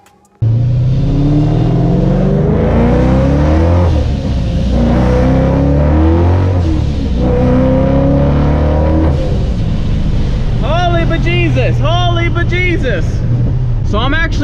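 A car pulls hard under full throttle on a small street, engine harmonics climbing through gear changes in a loud, close, continuous roar, with turbo-like whistles and chirps toward the end.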